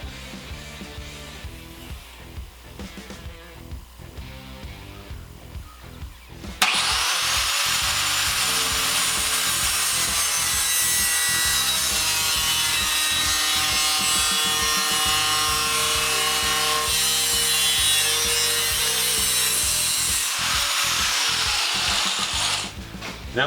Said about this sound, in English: Now we've got my little bracket cut out and drilled.